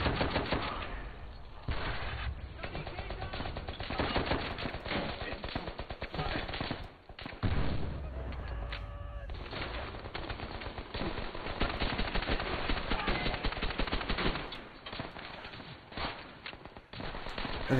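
Rapid machine gun fire in the Call of Duty: World at War video game rattles in long, loud bursts with brief pauses, dense and continuous across the clip, with a player's voice occasionally underneath.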